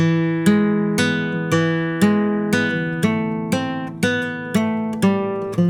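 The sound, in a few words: flamenco guitar hammer-on pull-off phrase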